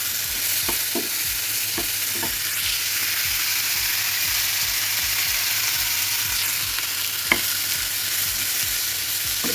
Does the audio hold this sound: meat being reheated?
yes